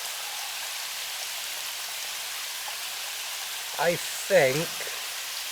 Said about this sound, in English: this is the same stream waterfall thing that we were taking photos of in our first video